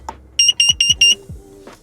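A carbon monoxide alarm in a van sounds four sharp, loud, high-pitched electronic beeps in quick succession, with a couple of softer clicks and tones around them.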